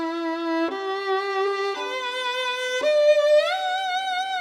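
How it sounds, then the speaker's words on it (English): A violin plays sustained bowed notes with a slow, even, mechanical vibrato, moving up in pitch across a few short steps, played alone and clearly. "what I see a lot of students that they have vibrato and it sounds like this"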